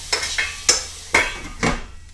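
Onions dropped in over garlic in a hot skillet, giving four or five separate rustling, scraping bursts with a sizzling edge, close and fairly loud, each fading quickly before the next.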